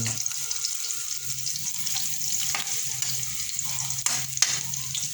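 Garlic, ginger and onion fry in a pan with a steady, close sizzle, broken by a few sharper stirring scrapes and clinks near the end.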